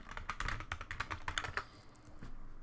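Rapid typing on a computer keyboard, a quick run of close, crisp key clicks that thin out and stop after about two seconds.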